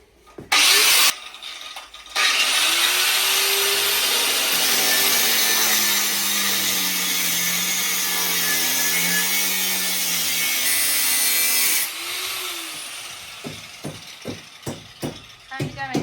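A Parkside angle grinder cuts through bolts inside a campervan being stripped out, a loud sustained whine with shifting pitch that stops sharply, then clanks and rattles follow; people talk around the noise.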